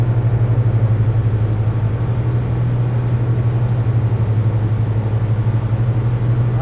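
The twin engines of a Targa 47 GT motor boat run at full throttle, a loud, steady, deep roar with a constant low hum that holds evenly throughout, no voices.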